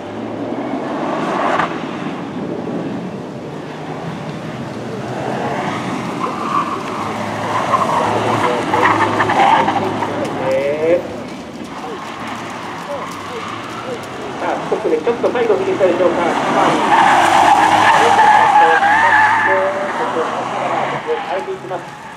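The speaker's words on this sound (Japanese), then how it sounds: "スタートをするのは35番、中田街道絆つか選手がスタートしていきました。" A rally car launches from the start at a motorsport event and drives off, its engine revving and rising and falling in pitch over the run, with an announcer talking throughout.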